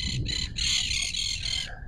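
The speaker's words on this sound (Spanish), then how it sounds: "mientras los loros nos molestan." Parrots squawk in harsh, repeated bursts close by in an outdoor setting at Puerto Curtiembre, several loud calls in quick succession.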